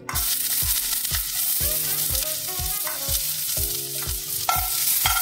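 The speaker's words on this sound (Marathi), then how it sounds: "पॅन मध्ये छान तेल गरम करून घेतलंय। आता बारीक चिरलेला कांदा आपण त्यात टाकणार आहोत।" Finely chopped onion sizzles and crackles in hot oil in a pan, with steady loud frying under repeated sharp scrapes of a spatula stirring it, close up and with no talking.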